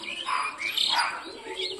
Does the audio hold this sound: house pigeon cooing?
yes